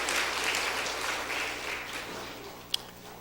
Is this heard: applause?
yes